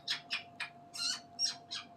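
Smokey, a pet bird, sings a string of short, bright whistled chirps, about eight quick notes close to the microphone over a faint steady hum.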